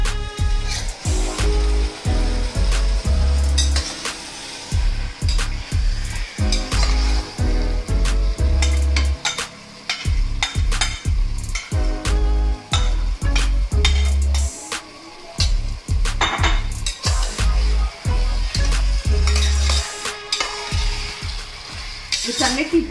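Marinated chicken pieces hiss and sizzle as they fry in a biryani pot, with steady clinks and scrapes of a spoon stirring against the metal; the frying stays loud and continuous throughout.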